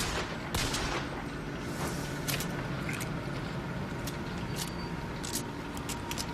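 Machine gun fire in Bioshock Infinite, dense sustained rattling bursts over a busy game-combat background, moderately loud and fairly continuous.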